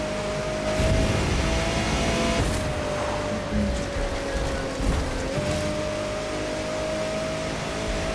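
Steady rain hiss in the video game The Crew 2 fills the scene, dense and continuous, with a faint engine tone running underneath throughout.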